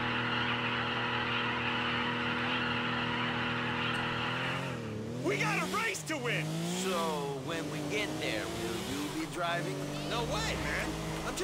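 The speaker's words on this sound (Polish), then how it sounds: "Trzeba trochę zagrzać opony, żeby była lepsza trakcja." A car in GTA IV spins its wheels in place to warm the tyres, a steady engine drone swelling into revving, wavering whines and tyre noise, loud and close with a voice talking over it.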